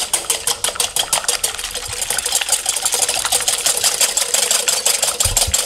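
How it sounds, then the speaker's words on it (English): A whisk beats three egg whites until frothy, a fast, steady, loud rattle of metal against the bowl that runs without a break and with no talk. "I'm gonna wanna whisk it up till it gets really frothy."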